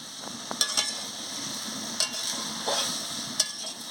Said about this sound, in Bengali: সবজিগুলোকে ভালো করে ভেজে নিচ্ছি